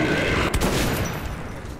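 Gunfire in the video game Metro 2033 Redux, a loud, dense burst of shots near the start, followed by a sustained rumbling wash of battle noise.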